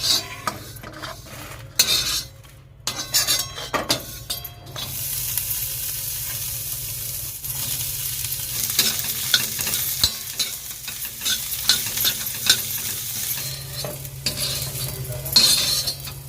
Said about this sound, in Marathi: आपल्याला खोबरा आणि कांदा सुद्धा व्यवस्थित भाजून घ्यायचं आहे